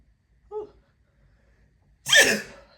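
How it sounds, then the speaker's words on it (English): A single human sneeze, preceded by a short sharp inhale, then a loud explosive burst up close, alone with no talk. "I'm about to sneeze."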